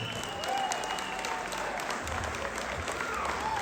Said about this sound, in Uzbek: mana shu joyiga qarsak chalinish kerak edi o'zi aslida